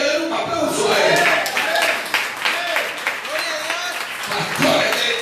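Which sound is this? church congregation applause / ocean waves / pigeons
church congregation applause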